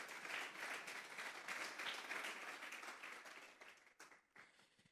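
A church congregation applauds for the Lord, dense clapping filling the room and gradually thinning to a few scattered claps near the end, faint and somewhat distant.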